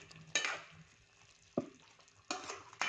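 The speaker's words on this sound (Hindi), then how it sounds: "अब हम इसको अच्छे से मिक्स कर देंगे।" Chicken karahi with cumin and spices stirred in a pan, three separate scraping strokes of a spoon against metal over a quiet sizzle.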